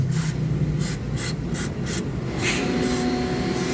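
Cleaner is sprayed onto a Mitsubishi Mirage engine part in a run of short hissing bursts, six or seven close, evenly spaced sprays over a low steady background hum.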